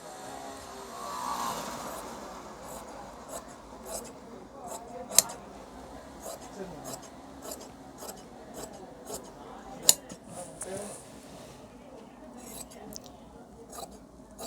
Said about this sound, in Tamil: ஸோ இப்போது இந்த பேக்கை வந்து கட் பண்ணிடலாம்.